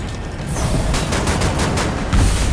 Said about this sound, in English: Here, have a Tesla grenade.